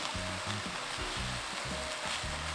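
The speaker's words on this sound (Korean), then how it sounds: "들깨가루 1스푼만 넣어서 이렇게 섞어주세요." Perilla seed powder being stirred into stir-fried perilla leaves in a pan, a quiet, steady scraping and soft sizzle with a repeating stirring rhythm, close by and with no talk.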